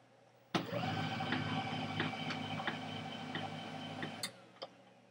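A Canon LBP6030W laser printer powers back on with a sudden onset of steady mechanical whirring, punctuated by several faint ticks and clicks, then a sharp click as the motor stops and one more tick after.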